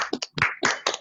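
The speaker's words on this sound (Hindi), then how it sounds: "एक ताली बजाएर हामी प्रभुको दासलाई" A church congregation clapping together, loud, close, irregular claps and short rattling bursts of hands that come in uneven groups with brief gaps between them.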